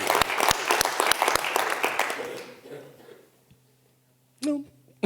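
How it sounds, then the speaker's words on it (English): Applause from a meeting audience rises loudly at once and then thins out and fades away, with a brief murmur of voices just afterward. "Please another round of applause for Steve because he deserves it."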